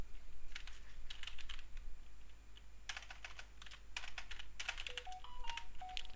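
Computer keyboard keys clacking in short irregular bursts, including a press of the tab key, close and fairly quiet over a steady low hum, with no one talking.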